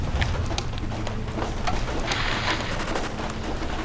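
Rain patters close by with scattered louder drops and clatters, plus a low rumble, all at a fairly loud, uneven level without any talking.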